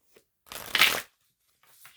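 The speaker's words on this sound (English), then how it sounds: "Let's do one more shuffle." A single brisk riffle of tarot cards, a quick papery flutter lasting about half a second, with faint rustles just before and after.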